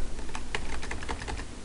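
Rapid typing on a computer keyboard while writing VB.net code, a steady run of light clicky keystrokes close to the mic, with no talking over it.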